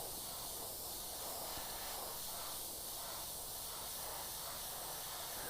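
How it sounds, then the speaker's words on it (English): An aerosol can sprays paint lightly through a stencil in a continuous, even hiss that lasts throughout, close and alone. "And then you just lightly spray through this thing."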